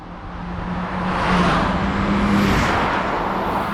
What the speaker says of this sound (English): driving an MX-5 with the top down and this turbo humming right there